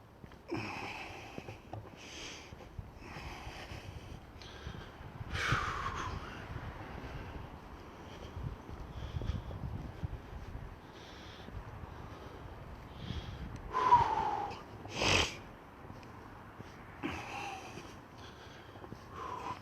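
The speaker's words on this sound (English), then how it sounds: "Very heavy gentleman with me now, where he's breathing." Heavy breathing from a heavy man outdoors, with close sniffs, snorts and wheezy breaths in an irregular rhythm over faint wind noise.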